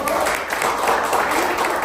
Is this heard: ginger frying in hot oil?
no